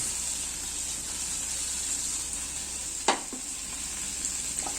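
Chicken and vegetables for a chicken supreme tossed salad sizzle steadily in a hot pan, a bright continuous frying hiss with one sharp clatter of the toss partway through and a few softer knocks after, no talking.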